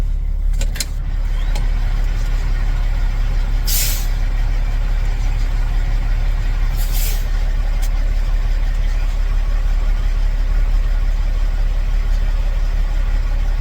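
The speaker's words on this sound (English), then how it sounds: "We're losing air when we press the brakes." Low, steady truck engine rumble with two brief bursts of hissing air as the air brakes leak when pressed, close by.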